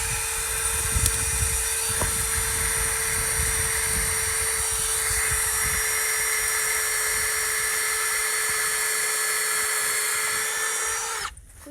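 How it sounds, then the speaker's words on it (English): A power drill bores a tap hole into a maple tree, a loud, steady high-pitched whine running continuously for about eleven seconds before cutting off abruptly, with no talking. "Okay, so I'll drill the hole."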